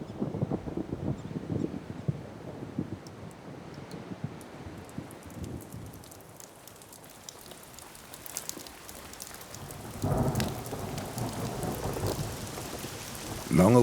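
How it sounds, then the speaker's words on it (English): Thunderstorm over open prairie plains, rolling thunder rumbling with steady heavy rain pattering throughout, a louder burst of rain and thunder near the end. "Long-awaited rain flows from the summits, depositing fine clay particles on the plains."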